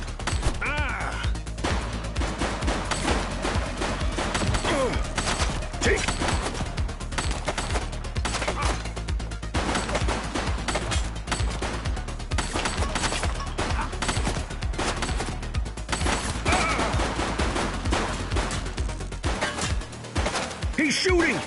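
Dense, continuous gunfire fills the video game The Precinct, rapid overlapping shots and impacts at close range, loud and unbroken across the whole stretch, with voices speaking under it.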